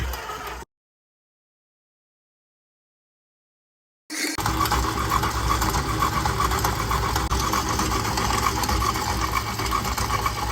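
A dough mixer kneads pizza dough at slow speed, a steady, even mechanical whir and rumble that starts abruptly after a short gap and runs continuously, fairly close, with no talk over it.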